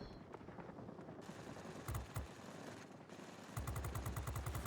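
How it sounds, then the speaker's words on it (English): Aircraft guns fire in the World of Warplanes video game, with rapid bursts of machine-gun rattle in short volleys, the last burst longer and louder. "Take some opportunistic shots into both an air defence aircraft and a ground attacker."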